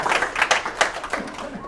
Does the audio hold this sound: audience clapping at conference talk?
yes